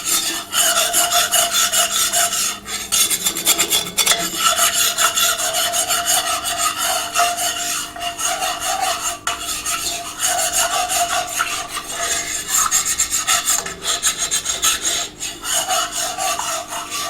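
A wooden spoon scrapes steadily around a pan of dark roux made with oil for Mississippi smothered chicken, a continuous close rasping with no talk.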